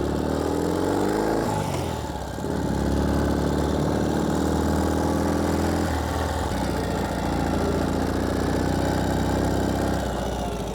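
A 2016 Ural Gear Up 2WD sidecar motorcycle engine runs steadily near and loud, with a couple of rising revs as the throttle is opened, alone and with no talking.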